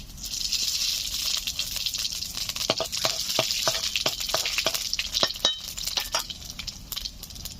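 Bay leaf, dried chilli, cumin and radhuni tempering in hot oil, a steady close sizzle crackling with sharp pops and spits throughout, alongside a few light clinks of a utensil against the pan.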